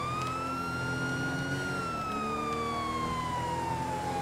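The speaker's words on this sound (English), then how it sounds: "Oh, we can kill our siren." A police siren in the GTA 5 video game wails steadily and loudly throughout, its pitch slowly rising and then falling over a constant engine rumble.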